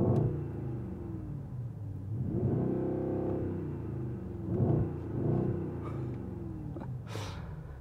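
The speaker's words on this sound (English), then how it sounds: "that AMG exhaust does sound good" A 2021 Mercedes-AMG GLE 63 S set to its powerful exhaust mode rumbles at idle, then swells through several short revs with a deep, throaty roar, each blip rising and falling back to a steady burble.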